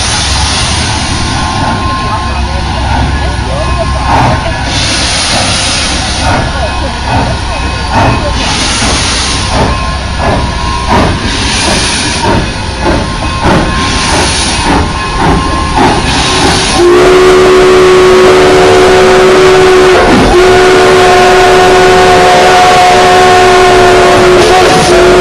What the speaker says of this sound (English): When he gets closer, cover your ears. They're loud, the whistles.